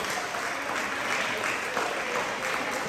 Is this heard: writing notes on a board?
no